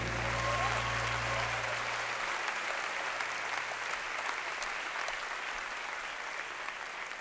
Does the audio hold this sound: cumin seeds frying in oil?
no